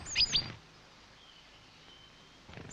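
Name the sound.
mixed flock of tits calling in a winter woodland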